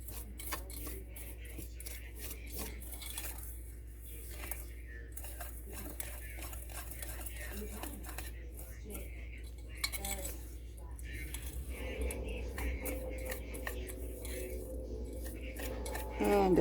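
A spoon or fork stirring and clinking in a bowl as a cheese stick coating seasoned with a dash of black pepper is mixed, a run of quiet irregular scrapes and taps, with a voice talking over parts of it.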